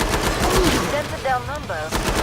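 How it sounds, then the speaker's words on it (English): Rapid automatic gunfire from an AR-15 in the video game Killing Floor 2, a loud continuous burst of close shots with brief pauses, overlaid with game effects and voices. "So this is your AR-15 submachine gun."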